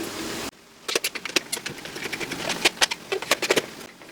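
Screws being driven into a plastic pillar while a Heng Long 1/16 scale Sherman M4A3 RC tank body is reassembled: a quick run of sharp, irregular clicks and ticks, close up, with no talking.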